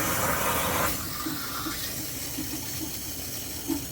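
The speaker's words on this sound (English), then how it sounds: "start filling the aquarium back up" Water pours steadily while an aquarium is refilled, a broad continuous rush that is loud at first and then settles into a softer, even flow, with a few faint bubbling pops.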